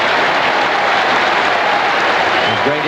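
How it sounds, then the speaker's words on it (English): Sustained applause and ovation from a home cricket crowd at a Test match in Brisbane, a steady dense roar of clapping that fills the whole moment. "Tremendous ovation."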